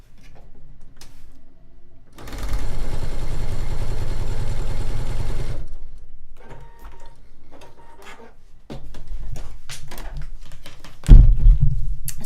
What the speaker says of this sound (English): I am going to sew this to the other side